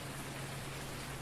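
Steady rain in the farming game Farming Simulator 19, a soft even hiss of falling drops that holds unchanged for the whole moment with no voices.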